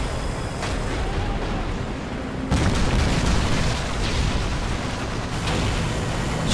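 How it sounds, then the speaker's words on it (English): Airstrike explosions in Modern Warfare 3 during a team deathmatch on Outpost, a dense continuous rumble of booms and blasts that swells sharply partway through and stays loud without talk. "Enemy airstrike approaching."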